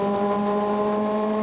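A Formula Vee race car's engine drones at steady high revs during a race at Anglesey, its buzzing note loud and close throughout without a break.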